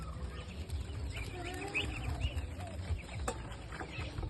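Chickens cluck softly in a farmyard cage, their short, scattered calls faint against a low rumble of background noise.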